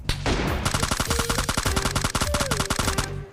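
Rapid gunfire in PUBG Mobile Lite with an M24 rifle in the fight, a dense stream of loud close shots packed together for about three seconds, no voices.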